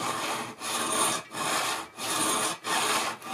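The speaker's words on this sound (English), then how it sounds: "Let me file on it." A hand file works a part for a model railway turnout in five deliberate, evenly spaced strokes, each a loud, close rasp with a short pause between, no speech.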